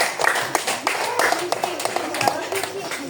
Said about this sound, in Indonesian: Ya, itulah presentasi dari kelompok 3. Tepuk tangan.